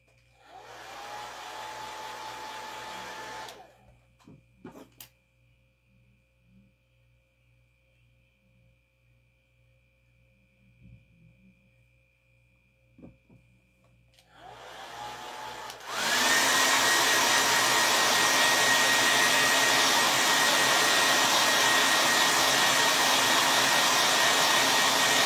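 A hair dryer drying a craft project on a thrift store find, switching on briefly, going quiet, then roaring steadily and loudly up close for the final stretch.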